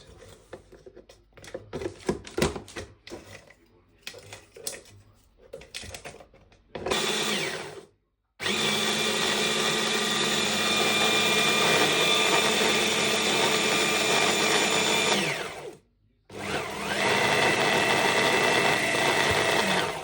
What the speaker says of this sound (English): So you crush the biscuits with the blender